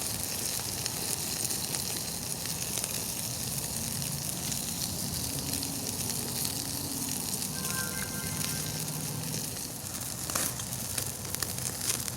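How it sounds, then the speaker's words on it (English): Steak sears over the hot coals of a Firebox stove in a continuous, loud, close sizzle and crackle lasting throughout, with occasional sharper pops and no talking. "you can sear your meat"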